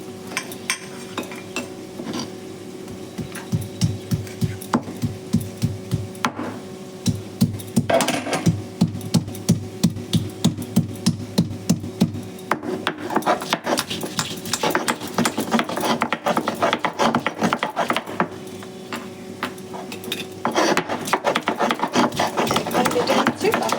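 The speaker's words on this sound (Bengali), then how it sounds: "এই যে রসুন এখন বেটে নেব।" A small garlic clove is crushed into paste for an omelette and potato curry, with rapid rhythmic pounding or grinding strokes repeating in bursts throughout, loud and close, with no talk.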